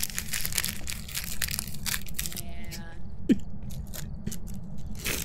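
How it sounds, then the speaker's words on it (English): Crunchy potato chips being chewed during a livestream ad break, with repeated close crisp crunching bursts and one sharper bite near the middle, over a steady background hum. "Are you eating chips?"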